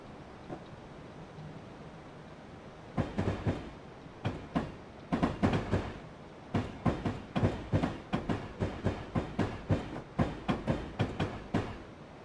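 A Union Pacific GP20 freight train in Train Simulator 2015 rolls along, its wheels clacking over rail joints in a steady, regular rhythm that starts after a quiet stretch, faint and alone.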